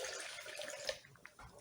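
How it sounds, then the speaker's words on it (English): Running water splashing and sloshing inside a blender being rinsed of blended tomatoes, close and steady, with a few small gurgles toward the end. "We'll rinse the blender"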